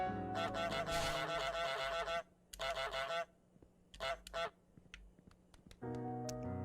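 A goose honks loudly and close in repeated bursts, some drawn out and some clipped, with short silences between the calls.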